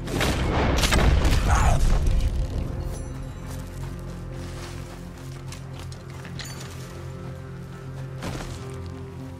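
Gunfire in a video game during a cougar hunt: a loud close boom at the start with a sharp crack around one second, then the noise fades to a low rumbling ambience with another faint shot late on.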